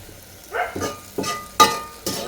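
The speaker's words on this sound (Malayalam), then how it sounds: "ഇത് നമുക്ക് എണ്ണ ഒഴിച്ചിട്ട് ഇനി അപ്പം ചുട്ടെടുക്കാം" Neyyappam batter goes into hot oil in a series of sharp sizzling bursts, each rising quickly and then fading. The sound is close and no one speaks.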